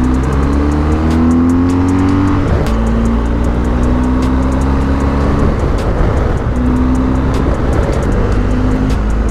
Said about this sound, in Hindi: अब ये मोटरसाइकिल जाने को तो 200 से ऊपर भी जा सकती है